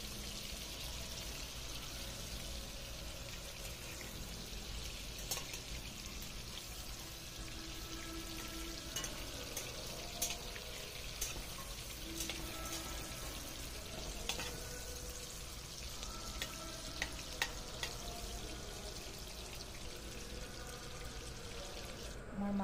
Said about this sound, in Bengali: মাছটা আমি উল্টিয়ে পাল্টিয়ে ভালোভাবে একটু ভেজে নিচ্ছি।